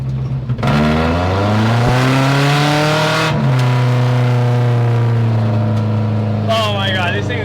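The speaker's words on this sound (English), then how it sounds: "this thing is gonna get me in trouble with this exhaust" Engine-swapped 1979 Toyota Corolla with a loud exhaust revs hard up close, holding a deep droning tone, dropping briefly, then climbing again, with a voice speaking over it near the end.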